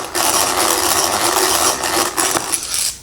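A countersink drill bit grinds steadily into walnut, a continuous rough whirring and chattering close by that holds for a few seconds before winding down.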